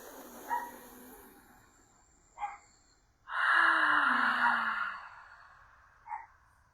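A deep, drawn-out inhaling breath during a Kundalini morning breathing practice, close and clear, lasting about two seconds and framed by a few short sniffs before and after.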